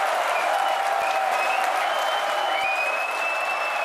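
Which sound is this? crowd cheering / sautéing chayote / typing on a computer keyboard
crowd cheering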